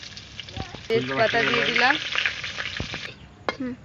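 Cardamom, cloves, cinnamon and bay leaf crackle and sizzle in hot oil in a pan for a dhaba-style chicken masala and fried rice, a steady close frying hiss with a person talking over it.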